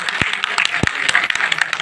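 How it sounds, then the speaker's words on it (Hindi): At a school dance event, an audience gives sparse, scattered applause, with a few sharp individual claps standing out against a thinner patter of hands. "इनके लिए जोरदार तालियां"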